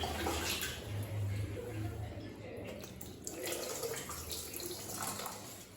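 Water poured over a baby's head during a head bath, a steady splashing and trickling stream running close and continuous for several seconds with faint background noise.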